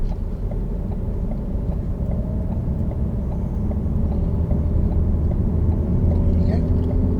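A car pulls away and accelerates on a roundabout during a driving lesson, with a steady engine and road rumble from inside the cabin that holds at an even, fairly loud level.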